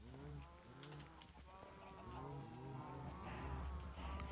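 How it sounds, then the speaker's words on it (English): Cows in a hardcore vanilla Minecraft 1.18.1 world give several low, drawn-out moos that overlap one another over a steady background hum. "Cows?"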